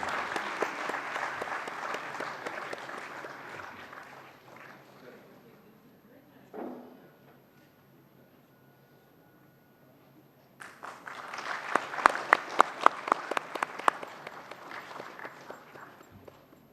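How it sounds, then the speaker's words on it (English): Audience at an academic conference's valedictory ceremony clapping for Professor Purvi, a moderate burst that fades out, a lull with a brief knock and faint hum, then a second round with sharp, close individual claps. "A big round of applause for Professor Purvi."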